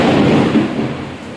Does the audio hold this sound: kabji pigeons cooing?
no